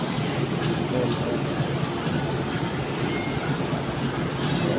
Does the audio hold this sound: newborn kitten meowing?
no